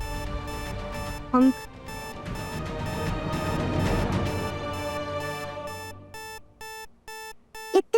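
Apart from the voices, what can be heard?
safe alarm ringing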